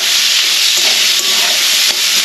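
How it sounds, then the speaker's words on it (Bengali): Carrots frying lightly in white oil in a pan, a steady close sizzle and hiss with a few soft stirring scrapes, no voices. "গাজরগুলো হালকা করে ভেজে নেব"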